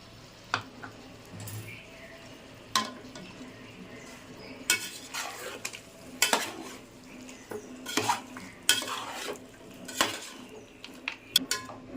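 Chicken biryani in a pot, sprinkled with coriander and mint, is stirred with a metal spoon, giving repeated close scraping clinks against the pot over a low sizzle, in irregular bursts.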